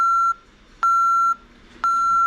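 ADT Safewatch 3000 Ademco Vista alarm keypad beeping steadily during arming in away mode: a continuous tone broken by short louder chirps at regular intervals, clear and close with no voices.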